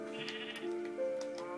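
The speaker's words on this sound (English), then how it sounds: "I need to try and breed the sheep to make a baby." Sheep bleating in the video game Minecraft: two or three drawn-out, wavering bleats in quick succession, close and fairly loud, with no talking over them.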